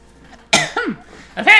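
Three short, harsh coughs from a character in the video game Zelda: A Link to the Past, in quick succession, close and loud, with brief pauses between them and near silence before.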